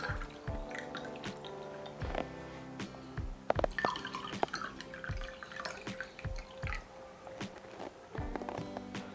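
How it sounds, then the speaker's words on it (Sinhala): Water is poured into rose syrup to make a Sri Lankan saruwath drink, with a steady liquid splash, dripping and light clinks of the container sounding close and clear. "ඊට පස්සේ අපි අවශ්‍ය ප්‍රමාණයට වතුර එකතු කරගමු."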